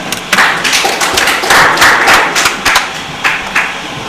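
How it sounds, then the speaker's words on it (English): Audience applause at a live quiz competition, loud close clapping from a modest crowd, uneven and bursty over a few seconds. "please a round of applause for them"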